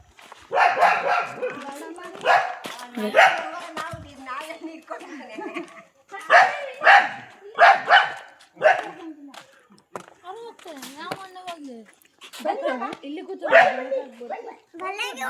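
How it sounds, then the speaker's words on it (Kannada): A big dog barks in repeated bursts close by, with children and adults talking over and between the barks. "ದೊಡ್ಡ ನಾಯಿ ಗಾಯ್ಸ್,"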